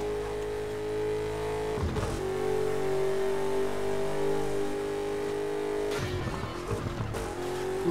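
A car drifts in a racing video game, its engine droning steadily and rising in pitch, with tire squeal running through it and a couple of brief jolts.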